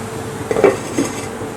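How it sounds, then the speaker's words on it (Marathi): A lid is set on a pan of mango curry cooking over a low flame, giving two short metallic clinks about half a second apart, close and clear, with no talking. "मिक्स झाल्यानंतर आता याच्यावरती झाकण ठेवायचं आहे"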